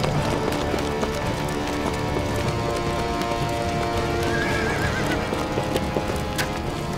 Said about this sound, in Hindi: सब जाओ, अपने घोड़े निकालो।